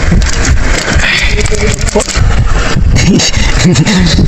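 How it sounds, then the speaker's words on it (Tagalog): Steady rain at night pattering loudly on a surface nearby, a dense continuous hiss with faint voices and scraping mixed underneath. "kahit umuulan pa rin"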